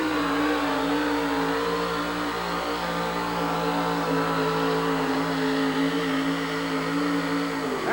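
A monster truck with an engine built by the owner's son roars at full throttle through a pull at the 1988 USHRA Winter Nationals in Kansas City, a loud, sustained, steady engine drone with no talk.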